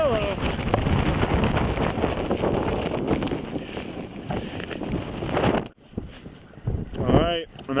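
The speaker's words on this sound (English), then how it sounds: "The wind's pretty ridiculous. I'm in a sheltered spot right now, but some of these gusts are disturbingly strong." Strong wind gusts on a winter ascent of Long's Peak, loud blustery roaring and buffeting close to the microphone, dropping out abruptly near the end as a voice speaks.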